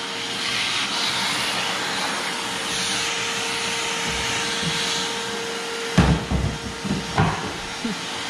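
A Harbor Freight Bauer 6 gallon shop vac runs in a workshop with a loud, steady whooshing hiss and a faint tonal hum. Near the end a few bumps and thuds sound as the nozzle knocks around.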